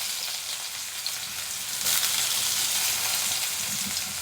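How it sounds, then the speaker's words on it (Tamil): Chopped onions and mustard seeds fry in hot oil in a pan, giving a dense, steady crackling sizzle that swells louder midway and stays close and continuous, with no voices. "கடுகு நல்லா பொரிஞ்சதும் கட் பண்ணி வச்சுருக்க வெங்காயம் சேர்த்துக்கலாம்."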